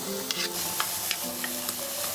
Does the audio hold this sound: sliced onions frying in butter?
yes